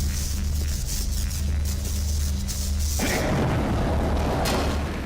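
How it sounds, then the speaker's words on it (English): A thrown glaive ignites a gas leak in the video game Dark Sector, with a steady low hum giving way to a sudden broadband roaring burst of fire that continues loudly to the end. "throw it into the gas leak and it'll create fire"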